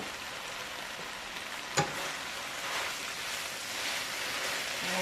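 Mushrooms sauté for chicken cacciatore in a pan, giving a soft, steady sizzle and crackle, with one brief sharp clink partway through and no voices.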